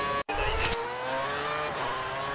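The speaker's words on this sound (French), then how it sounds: "Les Red Bull qui passent." Red Bull Formula 1 race cars pass at the Australian Grand Prix. Their high-pitched engine whine is loud and sustained, shifting in pitch as they go by, with a brief cut near the start.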